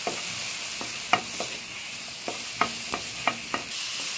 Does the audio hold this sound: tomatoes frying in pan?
yes